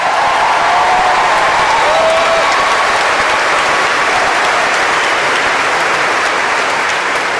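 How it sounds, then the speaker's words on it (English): A tennis crowd at the Brisbane International gives a sustained, loud round of applause for Matt Ebden after his men's singles win, with the clapping dense and even throughout and a faint voice briefly audible early on. "Round of applause, ladies and gentlemen."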